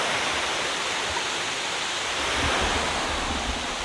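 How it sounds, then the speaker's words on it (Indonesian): Steady, loud rush of a mountain waterfall, a continuous broadband roar with no pauses, heard close by and alone, on Mount Lorokan, East Java. "ada air terjun di gunungnya"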